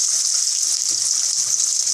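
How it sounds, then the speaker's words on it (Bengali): Chopped onion and black cumin frying in hot oil for a singara filling, a loud, steady, continuous sizzle with faint stirring scrapes beneath it. "এবার নেড়ে চেড়ে পেঁয়াজটা ভেজে নেব।"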